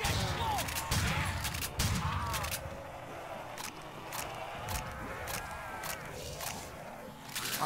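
Shotgun blasts in a Call of Duty Nazi Zombies mod, several sharp, spaced booms with scattered lighter impacts and clatter between them, fairly close and loud.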